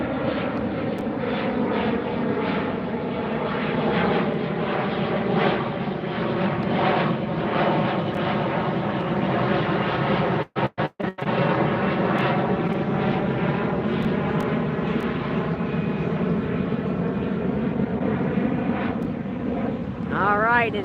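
A United SkyWest Embraer E-Jet departs LAX over the beach, a loud jet roar with rising and falling engine tones sweeping across the whole span, briefly cut out midway, with a voice talking over it.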